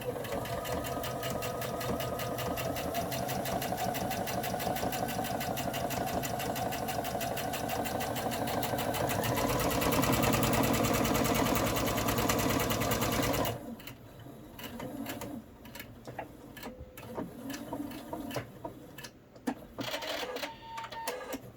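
A sewing machine stitches the folded pocket edges of a hospital mask, a fast steady mechanical whir running for about thirteen seconds, then stopping and giving way to quieter handling clicks and fabric rustle.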